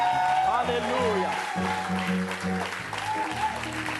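A church congregation applauds in a steady wash of clapping that runs the whole time, under loud voices chanting and singing along with musical tones.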